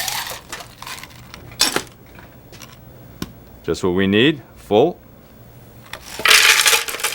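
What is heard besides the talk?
ice being put into a cup for a strawberry margarita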